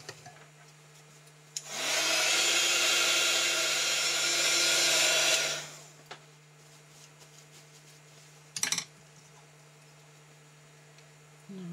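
A hair dryer or heat gun blows air over a freshly painted rust effect finish, running steadily for about four seconds over a low background hum before cutting off, followed by a brief clatter.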